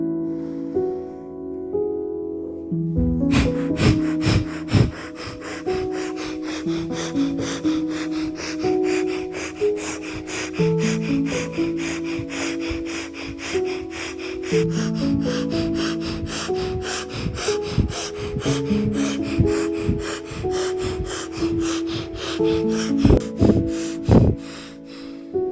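Rapid, forceful breathing pumps in a beginner hatha yoga breathing exercise, heard as a long run of quick, regular, sharp exhalations, close and loud, over a background of sustained music tones.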